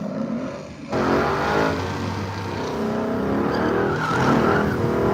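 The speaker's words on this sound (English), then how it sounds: "Got a pair of Mustangs in the burnout box coming up to make their pass." A pair of Ford Mustangs do a burnout in the burnout box at a drag event, with loud, sustained tire squeal and engine roar that rises suddenly and holds for several seconds.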